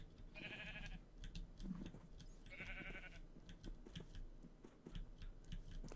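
Minecraft sheep bleat twice in quick succession, short wavering calls rising out of quiet background game sounds and soft clicks.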